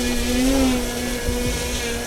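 The electric motor and propeller of a Precision Aerobatics Katana 52-inch balsa 3D RC plane hold a hover outdoors, a loud steady whine with slight pitch wavering and some wind noise.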